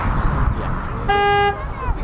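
A single car horn toot lasting about half a second sounds loudly in a quiet car park, sitting between stretches of close conversation.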